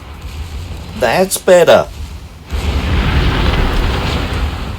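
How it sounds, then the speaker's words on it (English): A battleship's main battery salvo firing in a naval video game: after a short spoken remark, a heavy, rumbling blast swells up and lingers as a sustained roar. "Let's try one more main battery salvo."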